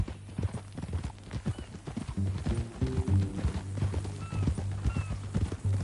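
Horse hooves clip-clop in a steady walking rhythm in the video game Red Dead Redemption 2, close by, with a low background hum underneath.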